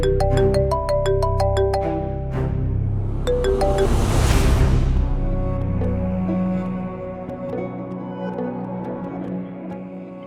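A phone ringing indoors: a bright, repeating electronic melody of clear tones sounds for several seconds, then swells into a shimmering wash before fading out.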